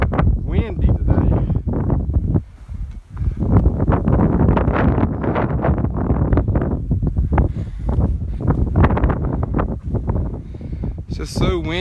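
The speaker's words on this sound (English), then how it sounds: "It's so windy today." Gusty wind roars across the open mountaintop near Black Balsam Knob, buffeting the microphone in loud rushing bursts with a brief lull, while someone talks through much of it.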